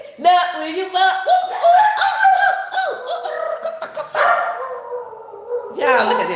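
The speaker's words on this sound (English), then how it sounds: "look at this dog" A dog vocalizes in drawn-out, bark-like and howling bursts, close and fairly loud, with a person talking over and between the calls.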